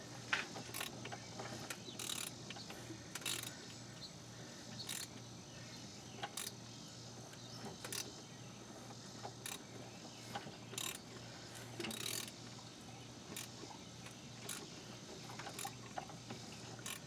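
A ratchet turns an Integra engine over by hand, giving faint repeated clicks at an irregular pace against a quiet garage background.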